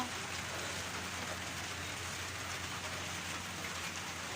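Steady rain hisses evenly throughout at a beach, a constant wash of noise with no voices.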